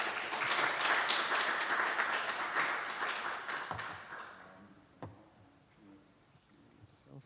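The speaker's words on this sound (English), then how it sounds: "Big round of applause" Dense audience applause after a tech talk on fine-grained authorization, loud at first, then thinning out and fading into a few scattered claps and quiet room noise.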